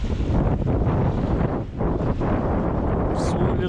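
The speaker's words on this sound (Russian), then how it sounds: "Ветрище, волны." Strong wind buffeting the microphone with waves on a riverbank during feeder fishing on a river channel at high water, a loud continuous roar and rumble throughout with a brief hiss near the end.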